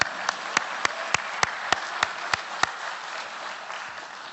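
Audience at a Corvette Hall of Fame ceremony, a steady crowd applause with about ten distinct, evenly spaced loud claps near the front that stop midway while the crowd wash continues.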